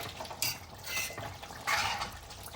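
A spatula stirs a potato and sprout curry in a pan, with three bursts of scraping against the metal over a low background sizzle, close and with no voices.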